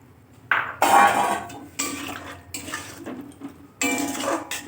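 Potatoes and peas tipped into a frying pan while cooking jalpai alur dom, giving a few loud clattering bursts of utensil against pan with sizzling in between, close up and without talk.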